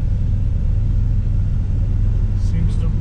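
A 1976 Corvette's engine on a test drive rumbles low and steady from inside the moving car, a loud, unbroken drone with a faint brief squeak near the end.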